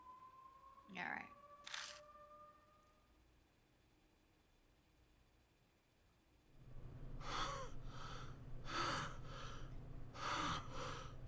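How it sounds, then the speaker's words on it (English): Heavy, deep breaths after running, in a horror visual novel game: early sharp tones and a gasp, then a quiet stretch, followed by loud, close, rhythmic panting of several breaths in a row. "I'm strangely out of breath."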